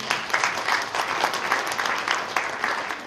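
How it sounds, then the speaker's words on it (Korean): Steady audience applause at a New Year prayer breakfast for Gyeonggi Christian leaders in a Suwon hotel, a thick, even wash of clapping from many hands that continues throughout without talk. "박수 한번 부탁드리겠습니다"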